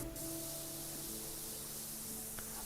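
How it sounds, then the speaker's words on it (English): Pressure washer water spray in the video game Powerwash Simulator 2, a steady, even hiss of jetting water running throughout with a low background hum. "You guys like the sound of water like this?"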